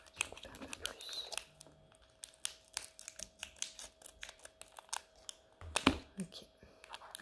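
Scissors snip open a plastic candy package from the USA in close, quiet ASMR detail, with a run of short crisp cuts and soft wrapper crinkling spread across the stretch.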